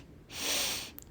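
A single long breath pushed out through the mouth during a heart chakra breathing class, a broad airy exhale that swells and fades over about two-thirds of a second, close and alone with no speech.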